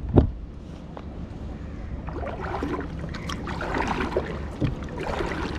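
An old kayak being straightened on the water at Cola Beach in South Goa, with soft paddle strokes, light water movement and wind noise on the microphone, fairly quiet throughout.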